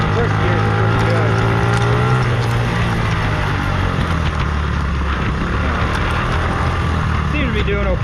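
A 1984 Honda Z50 minibike engine revs loud and close throughout a high-speed run, a steady buzzing drone with shifting pitch and rough wind noise.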